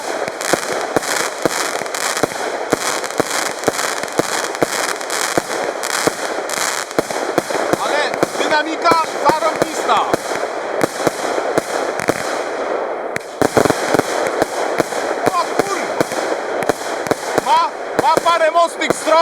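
Rapid, repeated firework bangs and crackling bursts from Zom Bum consumer fireworks go off in a dense, loud barrage, with voices talking underneath at times.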